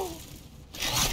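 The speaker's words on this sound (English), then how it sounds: "I hear building." Structures going up in a Fortnite match give a scraping, tearing clatter that surges loudly in the second half after a brief lull.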